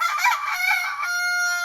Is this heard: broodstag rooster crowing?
yes